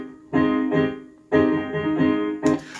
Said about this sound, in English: So then we have the piano melody